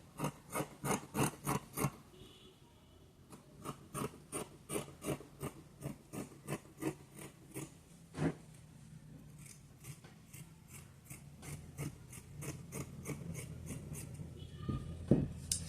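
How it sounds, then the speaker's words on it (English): Scissors cutting fabric for drawstring trousers, a close, regular series of crisp snips that gives way to softer, irregular cutting and rustling of cloth. "So I'm going to cut here."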